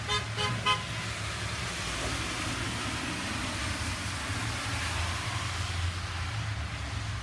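A car horn gives a couple of quick toots at the start, then steady roaring gusts of wind during a strong storm fill the rest.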